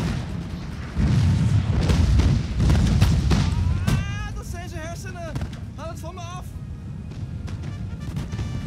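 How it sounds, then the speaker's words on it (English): Artillery salvos in a Napoleon: Total War online battle, Netherlands against France, with several deep booms and cracks in the first four seconds, followed by quieter scattered battlefield noise and whistling tones. "I'm just focusing all my artillery on his old guard"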